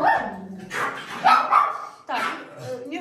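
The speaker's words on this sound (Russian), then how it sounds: "Так, не гавкайте." Dogs in a kitchen give a few short, close barks and yips in quick bursts, mixed with a person talking.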